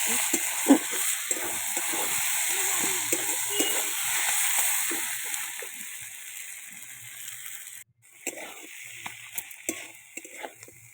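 Cabbage frying with a rohu fish head in a pan, a steady close sizzle with scattered stirring scrapes, easing slightly before a brief break and then resuming with sharper clinks.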